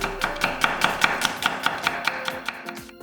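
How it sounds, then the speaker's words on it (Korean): A knife cuts a fifth of an onion into thin julienne strips on a cutting board, making quick, even, closely recorded chopping taps at a steady rhythm. "양파 5분의 1개는 얇게 채 썰고"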